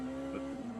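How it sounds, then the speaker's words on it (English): A Porsche race car engine drones in Le Mans Ultimate, racing at Fuji: a steady, strong, buzzing engine tone held throughout, with a slight swell in the middle. "I do enjoy just the loud roar of an engine"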